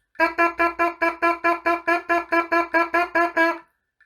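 A brass player's lips buzz a steady quaver rhythm during a cornet and trumpet lesson, about fourteen short, evenly spaced, reedy pulses, loud and close, then silence.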